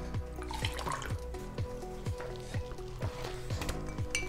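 Cold water pours into a prepared magnesium drink, a splashing liquid stream with a regular pulsing rhythm of glugs, close and moderately loud, without talk.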